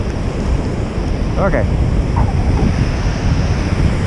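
Rough surf breaking on a windy beach, a steady roar of waves mixed with heavy wind buffeting close to the microphone, with a brief spoken word partway through.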